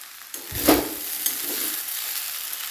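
A vegetable mixture with tomato sauce is stirred and folded in a pan for a short moment, giving one soft scraping swish over a light, steady sizzle, with no voices.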